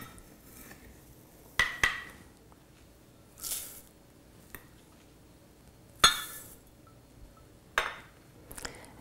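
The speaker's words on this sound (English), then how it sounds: "now I'm going to add 1 cup of quick oats." Quick oats added to melted butter in a pan, heard as a few separate sharp clinks and taps of utensils against dishes with soft pouring rustles between, isolated sounds against a quiet background.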